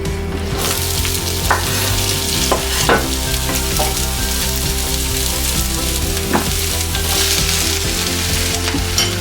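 Onions frying in a little oil in a pan for goulash give a loud, continuous sizzle, close up, with occasional soft scrapes and stirring clicks over it.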